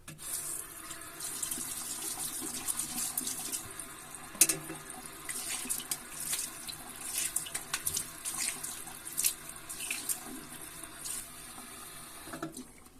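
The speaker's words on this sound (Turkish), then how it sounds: "şimdi bir yüzümü yıkıyorum" Tap water runs steadily into a bathroom sink while a man washes his face after a wet shave, a soft continuous splashing hiss with occasional louder splashes and drips, close by and without talk.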